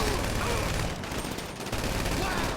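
Sustained gunfire in GTA V during a bank heist shootout, dense overlapping shots forming a loud, continuous barrage over game noise, with a voice talking underneath.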